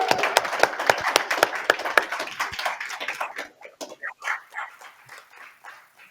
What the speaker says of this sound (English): So I'd like to give Kate a round of applause on behalf of both of us.